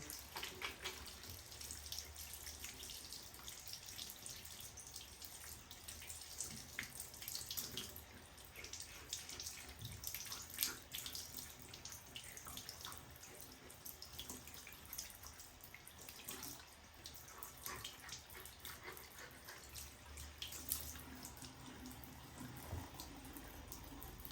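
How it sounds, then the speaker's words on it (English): A doll is scrubbed with soap under a running tap, a steady stream of water splashing and rushing continuously throughout with faint scrubbing textures beneath. "let's get a little bit of soap on there. A little bit of scrubbing."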